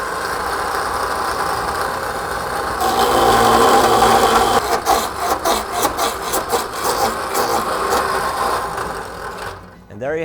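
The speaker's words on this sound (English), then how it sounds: "When you step down on this with your foot, the shaft comes out, and these things are spinning around right here." A log tenon cutting machine runs with its spinning cutters, a loud steady mechanical whir that swells as the shaft feeds out, then breaks into rapid repeated chattering bursts before cutting off near the end.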